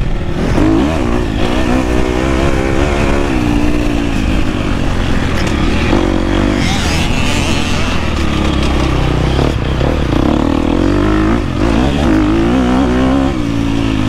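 A 2024 KTM 250 SX-F motocross bike ridden on a dirt track, its engine loud and close throughout, revving up and down continuously as the rider works through the sections.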